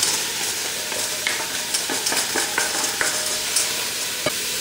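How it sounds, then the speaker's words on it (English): Onions sautéing in olive oil in a large pot over medium to high heat for hamburger stew give a soft, continuous sizzle with a few light, scattered stirring clicks, close and alone. "We're going to saute these on medium to high heat, keeping after them."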